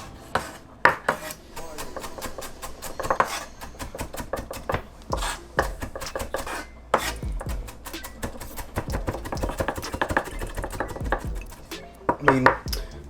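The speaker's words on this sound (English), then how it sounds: "Let's get into chopping these up." A knife chops fresh cilantro on a cutting board in a kitchen, a quick run of sharp, close taps in uneven bursts with occasional scraping, and no talk.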